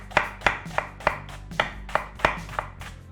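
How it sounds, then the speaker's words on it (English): Chinese cabbage sliced finely with a knife on a board, about ten crisp, evenly spaced chops close by, with no talking. "So I slice these fine."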